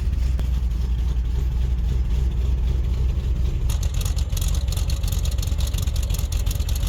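A 1964 Dodge Polara 500 with a Mopar big-block V8 and a lumpy cam idles steadily. The low rumble is loud and close and continues for the whole clip, with a slight change in exhaust tone partway through and no talking.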